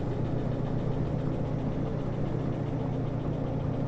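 A locomotive engine in the train game Derail Valley runs steadily at idle, a constant mid-low drone and rumble with no change in pitch and no voices.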